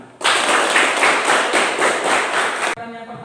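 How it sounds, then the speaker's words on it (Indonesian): A room of students in an Indonesian classroom bursts into dense, loud hand clapping that holds steady for about two and a half seconds, then cuts off abruptly. "Silakan duduk dan silakan tepuk tangan dulu."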